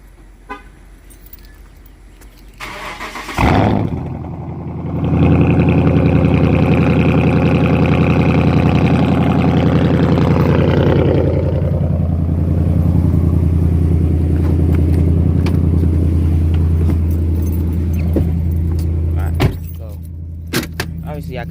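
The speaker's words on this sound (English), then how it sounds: "I told you I would do a cold start" Cold start of a 2018 Ram 1500 with a HEMI V8 after an oil change: starter crank, then a loud engine catch and a rumbling high idle that slowly settles, with a soft voice at the end.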